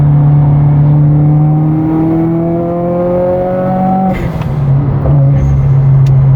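A Subaru WRX with a newly fixed fuel pump accelerates hard from 60 in a steady pull, its engine note climbing loud and close for about four seconds before a brief gear change and renewed drone.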